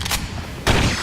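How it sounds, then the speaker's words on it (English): Bursts of gunfire as an enemy is shot down in The Bureau: XCOM Declassified, a short volley followed after a pause by a louder, denser burst of shots. "Just shoot it. Shoot it in its stupid eye."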